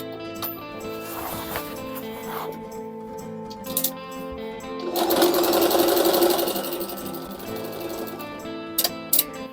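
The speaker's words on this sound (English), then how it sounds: "the machine sewing the patch on and kind of reinforcing the area" Sewing machine stitching a reinforcing patch onto jeans, with bursts of rapid mechanical clatter, a louder sustained run in the middle, and short clicks and pauses between passes.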